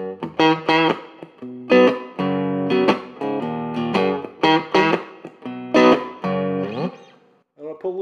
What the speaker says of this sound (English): You actually have that tiny bit of breakup on it, which is very, very tube-like